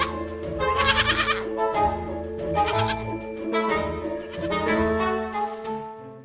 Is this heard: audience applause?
no